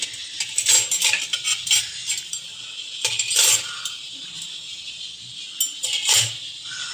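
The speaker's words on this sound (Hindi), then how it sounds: "तो मैंने सोचा ये चम्मच वगैरह भी लगा लूँ स्टैंड में।" Steel spoons clink and rattle as they are dropped one after another into a kitchen cutlery stand, giving bright metallic jingles in short clustered bursts, close and moderately loud, with no talking.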